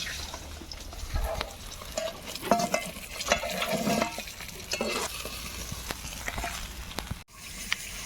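A rohu fish head fries in a pan with a steady, crackling sizzle and scattered bursts of spitting oil. Occasional stirring scrapes and knocks stand out close by over the continuous hiss, with no voices.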